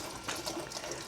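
Water drains steadily from a flooded Corvette, a continuous close splashing trickle like a running tap, with no talk over it.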